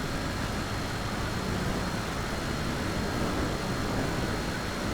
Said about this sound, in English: It's funny how you get an excessive amount of wind noise in the headphones